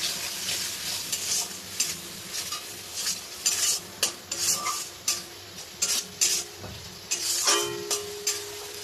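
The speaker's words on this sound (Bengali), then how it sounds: "এটাকে এবার সব মশলার সঙ্গে ভালো করে কষিয়ে নেব।" Spices and tomatoes sauté in a pan for a masoor dal bora curry: loud, continuous sizzling broken by frequent rhythmic scraping and clanking of a spatula stirring close up, with no talking.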